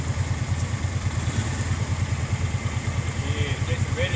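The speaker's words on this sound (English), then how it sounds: "Joe is riding a Polaris." A Polaris ATV engine idles and putters close by with a steady, throbbing low rhythm, while faint voices sit under it.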